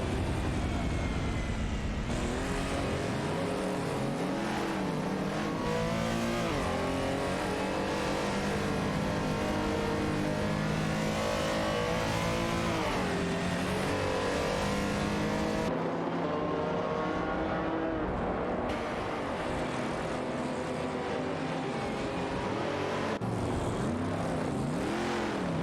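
Holden Monaro GTS and a pack of other race cars in a racing video game, engines droning and revving continuously with rising and falling pitch sweeps as cars pass and shift gears, loud and steady throughout.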